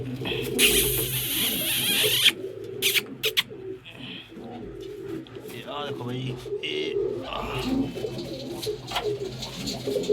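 Pigeons coo softly and repeatedly in a low rumbling rhythm, close by, amid flapping and rustling, with someone talking over them.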